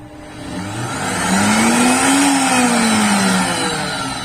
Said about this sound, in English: All you have to do is to come to the on button or OK button, press it, it starts to work.